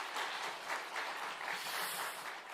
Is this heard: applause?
yes